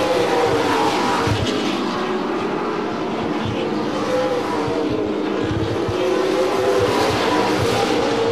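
Super late model race cars roar around a dirt track in a sustained, loud drone of engines blending together, with no gaps, as the field runs close to the finish of a 75-lap feature.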